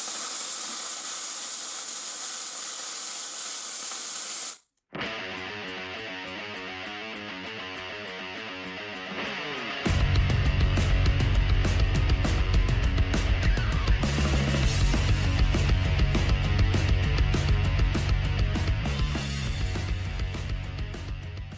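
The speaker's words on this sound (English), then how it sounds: "I'm going to use the plasma cutter just because it's quick and it's easy" A plasma cutter slicing metal, a loud steady hiss that cuts out briefly, resumes as a buzzy tonal drone, then swells into a harsher roaring hiss that runs to the end.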